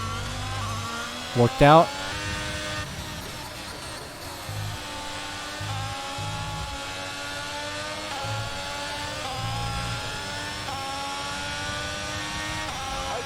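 F1 race car engine in the F1 22 video game at Monza, its high harmonic whine held steady and shifting in pitch through the run, with a voice talking over it throughout.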